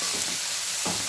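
Masala and capsicum stir-fried in a pan for peas pasta, giving a steady broadband sizzle with soft stirring scrapes, close and continuous with no talk.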